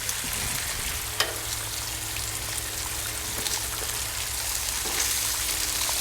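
Bacon strips crackle and sizzle in a hot pan on a grill, a steady soft hiss with scattered pops and a couple of light utensil taps.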